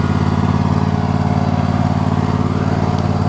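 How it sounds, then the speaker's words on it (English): A lawn mower engine runs steadily while cutting grass, a loud continuous drone with a constant buzzing tone and no pauses, close by. "while he's cutting the grass"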